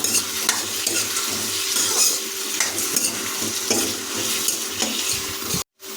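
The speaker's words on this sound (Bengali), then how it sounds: "কড়াইতে আলু যোগ করছি তাই এটাকে ভালোভাবে নাড়িয়ে নেব" Diced potatoes are stirred and fried in an Indian karahi, or wok, for a chicken-skin and pea ghugni. A continuous close sizzle runs under repeated scraping and stirring strokes, then breaks off briefly near the end; no one speaks.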